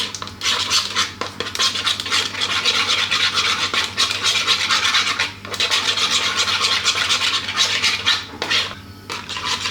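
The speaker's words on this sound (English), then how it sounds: "And then we're just going to give it a good mix." Sausage traybake ingredients with butternut squash and pumpkin being tossed with olive oil, honey and mustard, giving a continuous close scraping and rubbing of a utensil against a bowl in quick strokes, loud and without talk.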